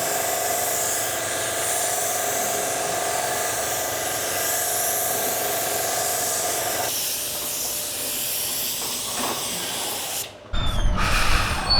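A spray gun lays a coat of paint on the front and sides of a vehicle body, giving a steady, close hiss that runs on evenly before cutting off near the end, followed by a brief louder burst.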